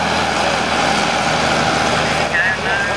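Heavy Valtra tractor engine droning steadily close by during a tractor pull, with a slight shift in pitch as it works through gears, under continuous mechanical noise.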